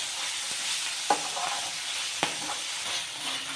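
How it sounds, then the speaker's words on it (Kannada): Fenugreek leaves fry in a pan for chicken fry as a soft, steady sizzle, with two sharp spatula knocks against the pan and light stirring scrapes, heard close and quiet with no voices. "ಇವಾಗ ಇದೊಂದು ಸ್ವಲ್ಪ ಫ್ರೈ ಆಗಲಿ."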